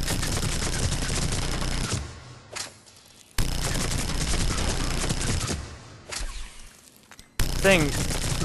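A Hurricane submachine gun in Mass Effect 3 fires on full auto in long, loud, rapid bursts, each several seconds long and separated by brief pauses, with a voice speaking under the shooting.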